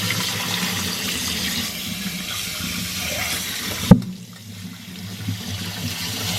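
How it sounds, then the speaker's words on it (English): Tap water runs steadily over pasta being rinsed cool after boiling, a broad close hiss that cuts off abruptly with a knock partway through, leaving a quieter room. "then rinse it under cool water"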